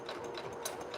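A sewing machine stitches along the pocket of denim shorts, a quick rhythmic mechanical clatter of needle strokes close up, steady and moderately loud with no voices.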